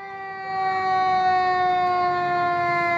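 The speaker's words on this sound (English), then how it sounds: "Here's a fire truck." A fire truck siren arriving at a truck fire sounds as a steady, loud sustained tone with rich harmonics, swelling up in the first half second and then holding level, with no talk over it.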